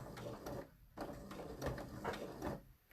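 A sewing machine stitching a single welt pocket with a short stitch length of about 2.2. It makes a steady, quiet whirring and rapid needle chatter with brief pauses between runs.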